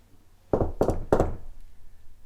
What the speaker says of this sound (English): he's going to knock on the stretcher